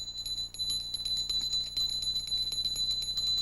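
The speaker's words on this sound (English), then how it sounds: "One further thing, a little bell. Listen to the pitch." A small bell rings steadily with a bright, sustained high tone and repeated strikes, heard clearly alone in a physics demonstration.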